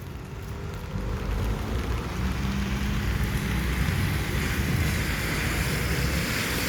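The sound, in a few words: rain on a street in Armenia, Colombia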